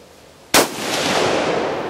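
A single sharp, loud gunshot cracks out at an outdoor shooting range, fired at a plastic gallon bottle target on a rainy day, followed by a sustained wash of rain or echoing noise.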